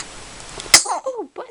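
A four-week-old baby girl gives one sharp, close sneeze after a stretch of quiet background hiss, followed by a few soft breathy vocal sounds.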